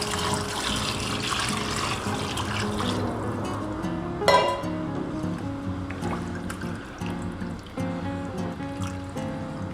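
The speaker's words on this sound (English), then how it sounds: "add enough water to cover" Water runs steadily into a pot of browned beef for a French onion pot roast, a continuous pouring trickle with a brief clunk partway through.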